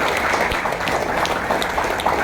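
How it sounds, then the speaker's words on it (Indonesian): Audience applause for the chairperson at a community gathering, a dense, steady burst of many hands clapping that fills the whole moment, close and continuous with no speech over it. "Tepuk tangan untuk ketua."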